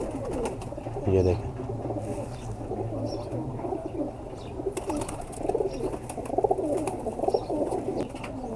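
Thud-type pigeons coo repeatedly in low, rolling phrases throughout, with a brief flutter of wings, while someone talks over them.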